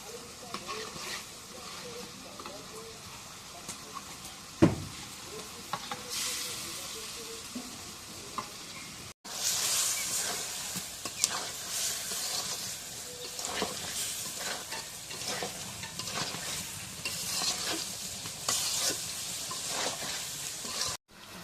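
Meat sizzles loudly in hot spice masala while being stirred, a steady crackling fry with scraping strokes, one knock partway through and a momentary break before the sizzle resumes fuller.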